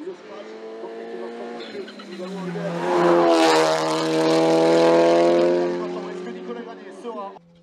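Cupra Leon Super Copa MK3 competing in a Group A, class A5 rally at La Pommeraye, its engine loud and close with a steady strained drone that swells and sustains in the middle, then eases off near the end.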